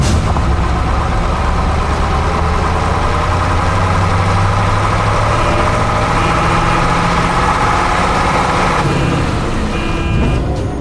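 A heavy truck engine in a cartoon ghost story, driven by a ghost, rumbles loud and steady for about nine seconds with deep low throb, then cuts down abruptly near the end.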